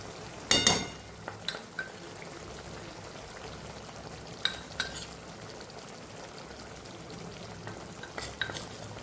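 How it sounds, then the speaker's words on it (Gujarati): Flour is stirred into a simmering curry of drumsticks and fenugreek. Soft, faint bubbling runs underneath several sharp clinks and scrapes of a utensil against the pot. "અને અહીંયા હવે આપણે લોટ ઉમેરી દેવાનો છે. ગેસ ધીમો કરી અને લોટ ઉમેરી દઈશું."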